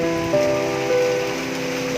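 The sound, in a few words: heavy rain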